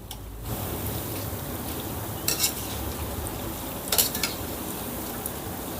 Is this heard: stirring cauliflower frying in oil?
yes